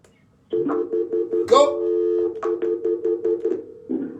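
A series of short telephone keypad tones beeps in quick succession on a radio call-in show, with a longer sustained tone midway and faint voice-like sounds mixed in.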